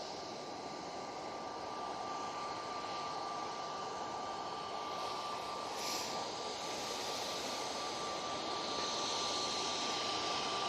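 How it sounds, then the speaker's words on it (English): An EasyJet Airbus A320neo departing Manchester Airport gives a steady, broad jet roar that holds at a constant distance and swells slightly toward the end, with a thin steady whine above it. "we go now with this EasyJet A320 Neo"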